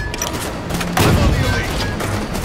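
A grenade explodes in Halo 5 combat, one loud booming burst midway through amid ongoing gunfire and battle noise, with voices calling out nearby.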